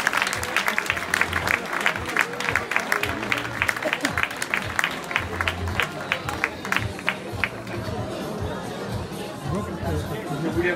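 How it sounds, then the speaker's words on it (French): A crowd applauds a runner after the Millau 100 km ultramarathon, dense rhythmic clapping mixed with chatter and crowd hubbub, loud and close, lasting steadily throughout. "on applaudit bien pour Aurélien qui reviendra l'année prochaine"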